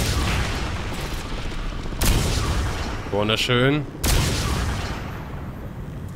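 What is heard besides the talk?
gunshots in the video game Crysis 3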